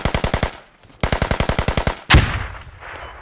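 Automatic gunfire in a tactical video game, two long rapid bursts with a short gap between them, followed by a single loud, close blast.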